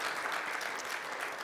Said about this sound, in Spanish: ¿Puedes darle un aplauso de alabanza a Él?